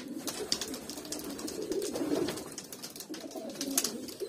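Hünkari pigeons cooing in soft, repeated low coos, spread steadily through the clip with no talking, the birds sounding fairly close.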